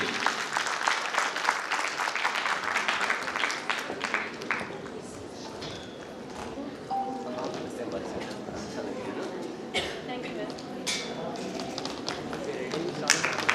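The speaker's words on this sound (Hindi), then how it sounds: "भरपूर तालियां" A crowd claps steadily at a facial beauty class, a dense patter of applause that thins briefly midway and then picks up again, with voices mixed in.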